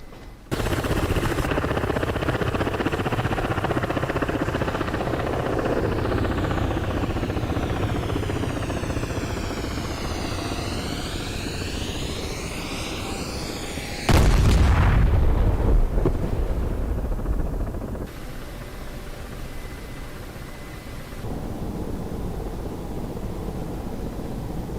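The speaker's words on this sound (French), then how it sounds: "Là, je vais faire vue lancer bombe. Donc je balance les 4 bombes." A Ka-50 Black Shark attack helicopter in the DCS flight simulator gives a loud, continuous rotor and engine roar, broken midway by a heavy bomb blast, with a steady rumble continuing after it and no voices.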